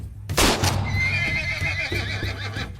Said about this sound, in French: En tête du peloton sur un cheval rapide, Jesse s'approche au galop du commandant de